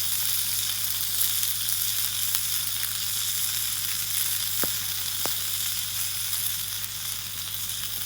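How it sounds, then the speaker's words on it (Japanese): Bacon sizzling in a deep frying pan over a campfire, a steady close crackling hiss with a low hum beneath and a couple of sharp pops, no talking. "ベーコン入れて"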